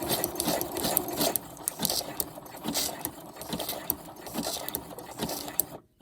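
A sewing machine stitches folded cellophane into a ruffle with a fast, steady mechanical chatter at close range, ending abruptly.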